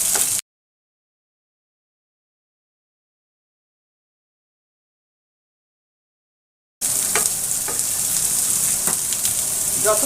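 Drumstick (sajna) pieces and vegetables fry in a pan with a steady, close sizzle and occasional stirring scrapes, cut off by a long stretch of silence before the frying sound resumes.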